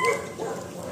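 Rottweilers giving a short, close bark or yip at an artificial insemination session, a single brief vocal burst at the start followed by lower muffled noise.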